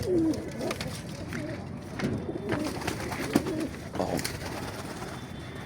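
Pigeons coo repeatedly in soft, rolling phrases against a steady background hiss, with a voice briefly speaking nearby.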